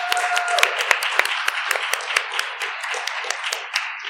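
An audience at a university bassoon day claps in a steady, fairly close round of applause that lasts the whole few seconds, with sharp individual claps standing out in the wash.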